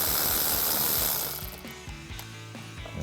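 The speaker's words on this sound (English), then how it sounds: "I'm just gonna take my 10mm socket, get down on that nut and loosen it up." Ratchet with a 10mm socket loosening a nut on the engine cover of a 2018-2020 Mustang GT, giving a rapid run of close clicking pawl ticks that slows into a few separate clicks.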